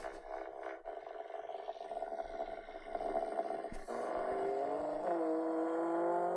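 A trombone imitates car engine sounds, with droning, wavering tones that swell and bend upward like revving and accelerating, moderately loud and alone without talk.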